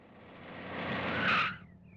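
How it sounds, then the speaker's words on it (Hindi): A car brakes hard and skids to a stop, the tire noise swelling for over a second into a brief squeal before cutting off abruptly, with no talk. "ड्राइवर गाड़ी रोको।"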